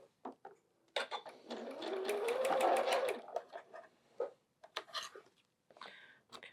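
Sewing machine stitching a quilt block, a steady rising whir for over a second amid short bursts of stitching, close and moderately loud with brief pauses between runs.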